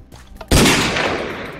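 A single loud gunshot in The Mining Dead, a zombie survival game, cracks suddenly after a moment of quiet and leaves a long rumbling decay.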